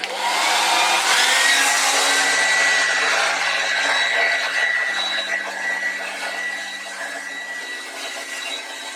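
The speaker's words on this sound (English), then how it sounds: "take my blow dryer and just kind of blow dry it" A hair dryer blows steadily and loudly at close range, a constant whooshing hum with slight shifts in pitch as it moves.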